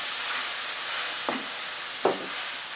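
Stir-fried prawns sizzle with a constant loud hiss in a pan, with two brief splashing spurts as a little mortar-rinse water with garlic and chili is added.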